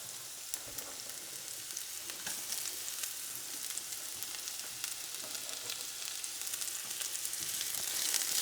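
Chopped onion frying in a preheated pan with other ingredients, a steady bright sizzle that holds at an even level throughout with faint crackles and no voices.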